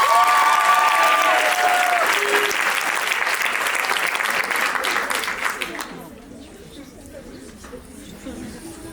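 An audience at a lycée end-of-year school concert gives loud, dense applause that continues for about six seconds and then fades into softer scattered clapping and murmuring.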